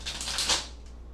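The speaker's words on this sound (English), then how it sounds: "Got to give it one more shuffle." Tarot cards are shuffled close by in a short burst of crisp riffling and flicking, with a faint low hum underneath.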